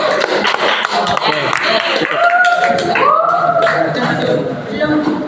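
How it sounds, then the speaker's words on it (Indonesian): A classroom of teacher-training participants claps for a group after its presentation, scattered applause mixed with chatter and laughter, with voices overlapping throughout. "Tepuk tangan dulu untuk kelompok 1"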